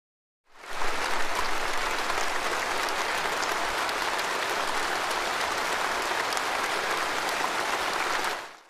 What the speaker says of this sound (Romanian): Xi Jinping a urcat pe podium în ovațiile celor 2300 de delegați veniți din toată China